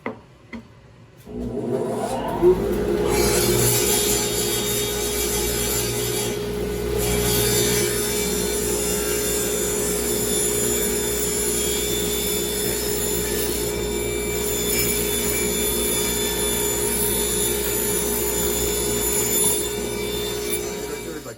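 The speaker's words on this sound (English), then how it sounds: "let's hit the dust collector and let's get cutting" A workshop saw spins up and cuts through plywood while a dust collector runs alongside, forming a steady, loud whining drone with sustained high tones after a few knocks at the start.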